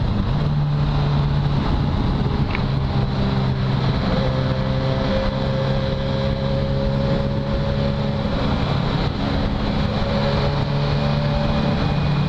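A new motorcycle's engine hums steadily while riding down a mountain road, a continuous low drone with rushing wind noise throughout and no talking.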